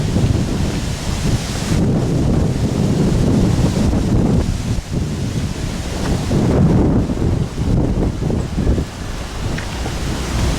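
Strong wind blowing beside Round Lake in Charlevoix, Michigan, roaring steadily and loudly across the microphone with gusty swells throughout, no voices.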